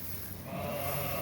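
Sheep bleat in a barn at night during breeding season, a low, steady, wavering call held throughout, fairly faint and unaccompanied by talk.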